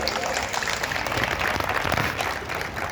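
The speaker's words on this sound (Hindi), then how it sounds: "तो एक बार हाथ खोल के जरा जोरदार तालियां अपने लिए बजाइए।" Dense, steady applause from the audience at a Hindi comic poetry gathering (hasya kavi sammelan), a loud continuous wash of many hands clapping with no clear talk above it for the full three seconds.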